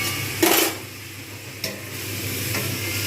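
Chicken pieces sizzle in a pot under a low steady fry, broken by two or three short scraping stirs, with no one speaking.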